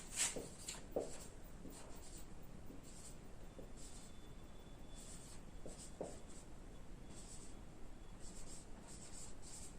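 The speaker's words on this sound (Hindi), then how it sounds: "1 से 100 के बीच में 4-5 नंबर लिखता हूं मैं।" Numbers being handwritten with a pen on paper, a faint series of short scratchy strokes in irregular bursts over a quiet background, no one talking.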